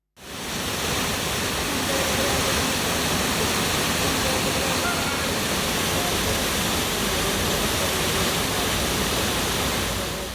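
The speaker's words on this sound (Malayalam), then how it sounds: "സൗന്ദര്യമൊരുക്കി സഞ്ചാരികളുടെ മനം കവരുകയാണ് മൂവാറ്റുപുഴ പായിപ്ര പഞ്ചായത്തിലെ ആട്ടായം ചിറയും വെള്ളച്ചാട്ടവും" Waterfall at Attayam Chira on the Mulavoor stream in Payipra, Muvattupuzha, roaring in a steady, dense broadband rush that holds constant and loud throughout, with no voices over it.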